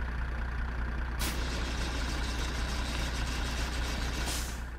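Air hiss and the steady low rumble of an idling semi truck while its trailer is uncoupled in American Truck Simulator, near Grand Canyon Village, Arizona, with two short bursts of released air over the continuous engine drone.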